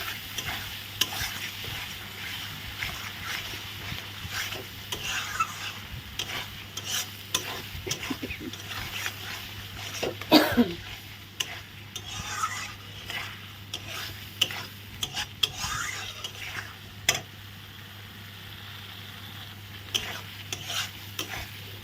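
Half-fried potatoes being stirred and sautéed with spices in a pan, a steady sizzle broken by frequent scraping of a spatula against metal, close and continuous.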